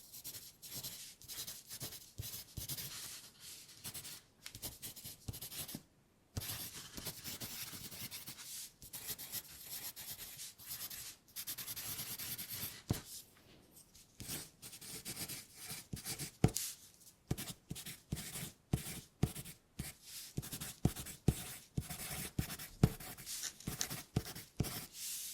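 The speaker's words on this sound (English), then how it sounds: "I am going to do some writing sounds for you." Pen or pencil writing on paper as an ASMR trigger, close and quiet, a steady run of scratchy strokes broken by short pauses between words and lines, with no talking.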